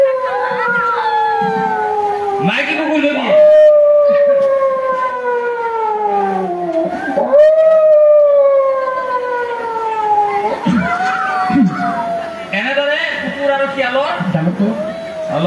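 A person's voice imitates a female dog howling, giving long wavering howls that slide downward, repeated several times in a loud outdoor comic performance at a Rongali Bihu gathering, with other voices joining in between.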